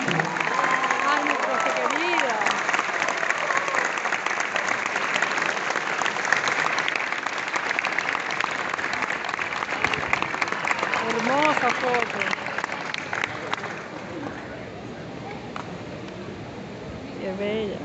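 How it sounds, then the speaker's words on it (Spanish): Sustained audience applause at a graduation ceremony, a dense wash of many hands clapping that carries on for many seconds, with cheering voices rising through it and gradually easing near the end. "Damos un fuerte aplauso para Sofía y este gran equipo."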